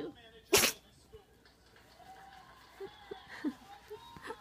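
A puppy lets out one sharp, loud sneeze right at the start, followed by a quiet room with only faint, scattered small noises.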